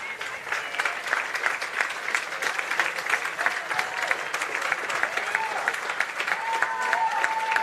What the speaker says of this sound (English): Who received an applause